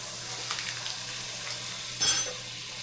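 Butter melting in a pan to start a roux for scratch-made mac and cheese gives a steady close sizzle and frying hiss, with a brief louder crackle and stir near the end.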